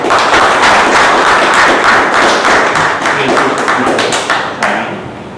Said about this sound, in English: Please help me welcome with a big round of applause Toastmaster Vivek.